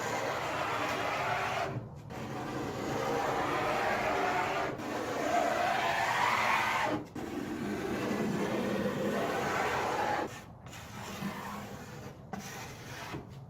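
A rigid scraper strips softened finish from a dresser top in long continuous scraping passes, close and steady, broken by short gaps where the blade lifts between strokes.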